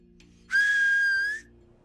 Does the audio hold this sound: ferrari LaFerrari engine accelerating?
no